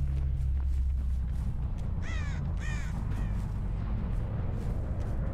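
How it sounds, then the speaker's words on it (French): Crows cawing in the horror game Dead by Daylight: two or three loud harsh caws in quick succession over a steady rumbling ambient drone, with no speech. "Peut-être que les corbeaux réussiront à m'indiquer où se trouve le dernier."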